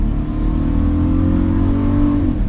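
A 2021 Volkswagen Atlas Cross Sport SEL accelerates in sport mode, its engine a steady, loud interior drone that builds evenly over a few seconds with no talking.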